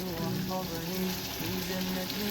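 Steady, dense sizzling of chickpeas in a pan of frying onions and chilies, loud and continuous throughout, with a faint tonal hum underneath.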